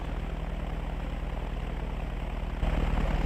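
A propeller airplane engine in the video game Arma 2 DayZ Mod drones steadily and loudly with a rapid pulsing beat, growing slightly louder near the end, with no talking.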